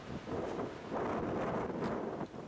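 Right-to-left wind blows across an outdoor disc golf course, with continuous gusty rumble and buffeting against the microphone.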